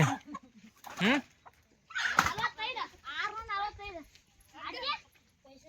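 Chickens at a rural North Karnataka home cluck in short bursts, mixed with children's voices and chatter close by, with quiet gaps between the sounds.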